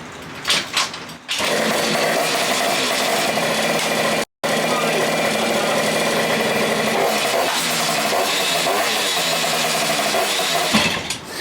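A Honda Zook scooter engine runs hard and loud after the choke is turned off, a busy high-pitched buzz that drops out for a split second and then carries on steadily.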